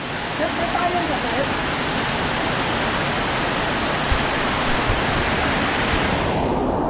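Steady, dense hiss of heavy rain pours down without pause at Utod Falls in Magallanes, Cavite, Philippines, a broad wash of sound close around.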